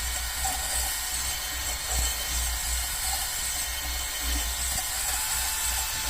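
A motorcycle engine cylinder barrel is honed with a power hone moving up and down, giving a continuous, close, rough grinding hum with slight rhythmic swells and no speech.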